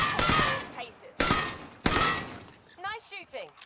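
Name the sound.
gunfire in video game Warzone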